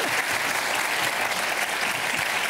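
A television studio audience bursts into loud, continuous applause, a dense wash of many hands clapping at once, close and steady throughout without any talking.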